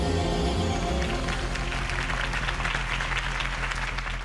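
Sustained applause and clapping from a video game crowd, dense and steady for a few seconds, with a faint tonal background fading out early.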